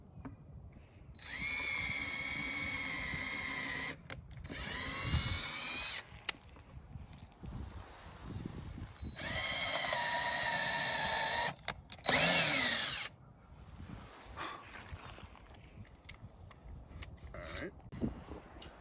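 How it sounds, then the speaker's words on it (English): Power drill boring pilot holes into a cedar owl box, heard as several separate high whining bursts of a few seconds each, close and loud, with short gaps and quiet talk between them. "we're going to drill a couple pilot holes here first"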